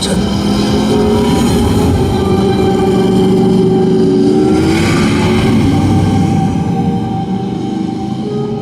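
A Norton motorcycle engine runs loud and close with a steady roar and rising revs throughout, no voices over it.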